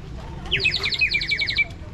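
A water-filled bird whistle toy blown near a lake at Núi Cấm mountain in An Giang, giving a fast run of bright warbling trills for about a second, close and fairly loud over low outdoor rumble.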